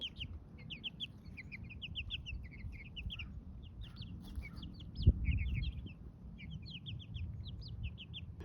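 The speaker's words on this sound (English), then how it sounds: "Looks like the chicks have decided to venture out into their little run I've given them" Young chickens out in their run on a sunny spring day give a steady stream of soft high peeps and clucks, with a low outdoor rumble underneath and one brief bump midway.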